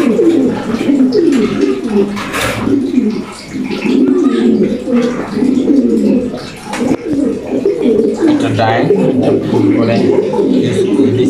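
Domestic pigeon cooing steadily through the clip, a near, continuous run of low throaty coos with slight rises and dips, heard during a session of treating and handling the pigeon.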